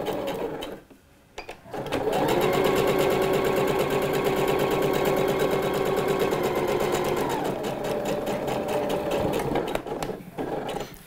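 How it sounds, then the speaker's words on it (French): A sewing machine stitches along the first hem seam of a kimono-style blouse, running in a steady close rattling whir for about eight seconds after a brief start, then slowing and stopping. "je vais piquer ici dans la ligne de couture, donc qui apparaît, c'est la première couture de l'ourlet"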